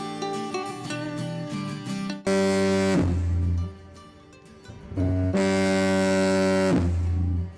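A restored 1929 lighthouse foghorn in Tasmania blasts loud, deep, brassy tones in two long separate soundings with a pause between, each dropping to a lower growling note near the end, heard close and with no talk.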